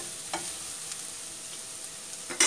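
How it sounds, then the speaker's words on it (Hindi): Chicken rice being stirred gently in a hot pan, a steady broadband frying hiss with a few soft spoon scrapes and a louder clatter near the end, no voices. "अब ये टूटे ना तो मैं इन्हें आराम से मिक्स करती हूँ"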